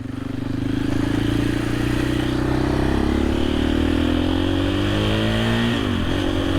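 A KTM EXC-F 500 motorcycle engine runs close and loud, holding a steady drone before climbing in pitch as it revs, then dipping briefly near the end.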